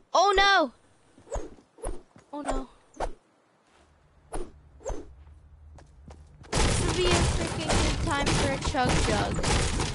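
Gunfire in a video game aimed at characters: a burst of dense, rapid shots fills the last few seconds, loud and close, after a stretch of excited speech with short gaps of quiet.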